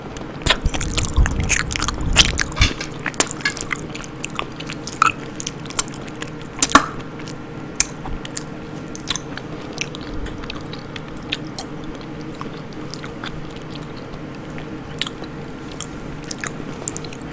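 Close, steady chewing and biting on peanut butter, with soft wet squishing and sticky crunchy mouth sounds repeating through the whole stretch, mostly alone.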